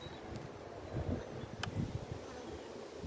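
A faint, low buzzing of honey bees at a hive hums close by, with soft rustling and one brief sharp click partway through.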